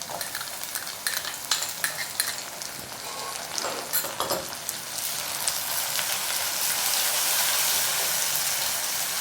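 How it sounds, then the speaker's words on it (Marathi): Tomatoes hit hot frying onions in a pan for egg bhurji rice, giving a close, steady sizzle with scattered crackles and stirring scrapes that grows denser and more even toward the end. "मी त्यात 1 वाटी टॅमॅटो टाकत आहे."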